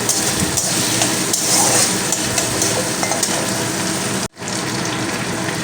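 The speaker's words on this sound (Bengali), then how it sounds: "কষিয়ে নেব পেঁয়াজের সঙ্গে আর এখানে আমি একটা টমেটো অর্ধেকটা কেটে দিয়ে দিলাম" Onion and tomato sizzle and fry in a pan with ginger and garlic for a winter-vegetable paneer curry, a steady crackling hiss with stirring that briefly cuts out near the end, with no talking.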